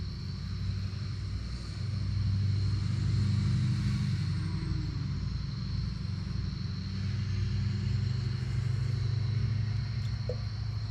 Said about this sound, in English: I don't know what this guy is doing, riding up and down the road here.